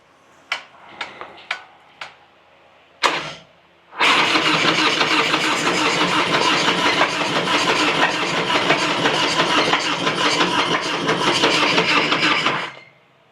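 A Harley-Davidson FXR motorcycle engine, a Kenny Boyce rendition, starts after a few sharp clicks and a brief crank, then settles into a loud, steady idle for about nine seconds before cutting off.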